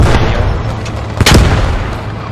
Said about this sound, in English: He's throwing grenades!